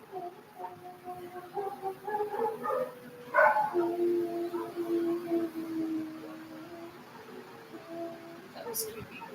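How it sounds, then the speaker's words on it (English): Dogs bark and howl at a moderate distance, a run of yelps and drawn-out, wavering howls rising and falling over several seconds against a steady background murmur. "I heard the dogs."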